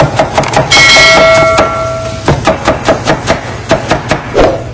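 Onions chopped with a knife on a board for a pressure cooker mutton curry, heard as a series of sharp, close, fairly loud knife taps in an uneven rhythm, with a brief ringing metallic tone partway through.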